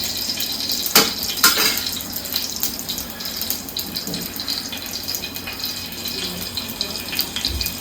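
Mustard seeds pop and splutter in hot oil for a fish curry, a continuous sizzle broken by sharp crackling bursts, loudest near the start, with no talking.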